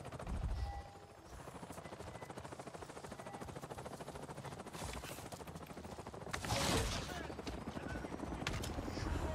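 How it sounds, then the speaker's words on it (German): Steady rapid thumping of helicopter rotor blades in Avatar: Frontiers of Pandora, continuous and moderately loud, with a brief brighter burst midway and talk beneath. "Ich höre Helikopter."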